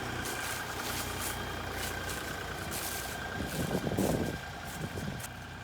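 A tractor hauling a load of freshly cut firewood toward the woodshed runs with a steady engine drone, fairly close, with a brief surge of louder rumbling and clatter toward the end.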